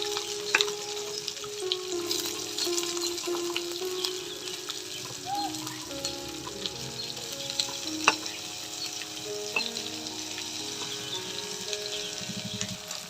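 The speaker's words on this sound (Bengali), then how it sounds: "পেঁয়াজটা হালকা ভেজে নিয়েছি" Chopped onion frying in a pan over a wood-fired village stove, a continuous close sizzle with occasional stirring clinks, and faint birdsong in the background.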